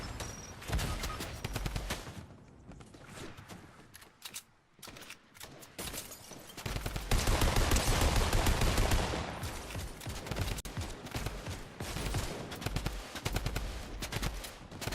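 Gunfire in the Fortnite video game, loud bursts of rapid automatic fire and repeated shots in quick volleys, with a short lull before heavier sustained firing resumes.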